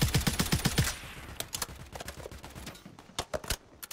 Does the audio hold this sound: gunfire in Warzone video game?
yes